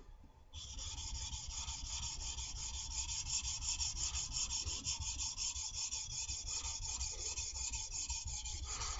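The back of a Stanley woodworking chisel is flattened by rubbing it across an abrasive surface, giving a steady, close, continuous rasping scrape that keeps going without a break and without any voices.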